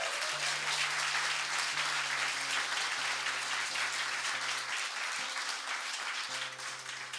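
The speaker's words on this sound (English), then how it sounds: "Let's give them another round of applause." A crowd applauds continuously for several seconds, a dense wash of clapping that tapers slightly at the end, with faint tonal hum beneath.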